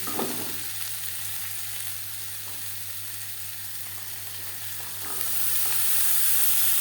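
Diced potatoes tossed with turmeric and salt fry and sizzle steadily in a pan for a cabbage curry, with a continuous close hiss and soft stirring scrapes, the sizzle swelling louder near the end.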